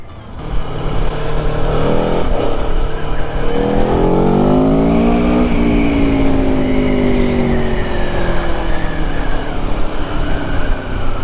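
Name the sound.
Aprilia Tuono 1100 Factory 2021 motorcycle engine while riding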